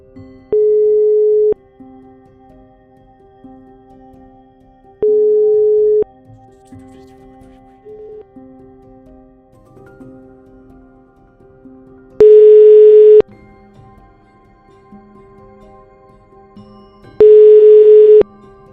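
Telephone call tones on a line: a steady dial tone sounds in repeated short bursts, then two louder, brighter busy-signal bursts follow. Faint background murmur runs between them, with no speech.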